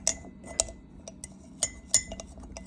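A utensil clinks against a glass jar while sourdough starter and water are stirred, irregular bright taps and scrapes close by, with quiet gaps between strokes and no talking.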